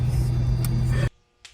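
A lowered Nissan Skyline drives with a loud, deep engine rumble close by that cuts off abruptly, then near silence follows with one faint brief noise.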